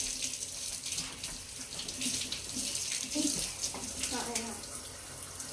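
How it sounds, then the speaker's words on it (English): Water runs steadily from a tap during handwashing in a home kitchen while making pizza rolls, a continuous hiss under a short spoken remark, with splashing shifts as hands move through the stream. "Then you're going to want to wash your hands."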